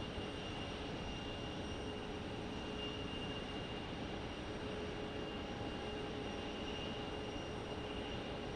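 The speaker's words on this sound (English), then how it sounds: "E175 here landing" An Embraer E175 jet landing at Phoenix Sky Harbor gives a faint, distant, steady roar of engine and airflow, continuous with no voices.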